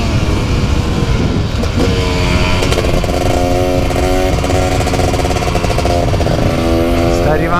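A motorcycle engine rumbles loudly and continuously close by, revving up and settling as it idles.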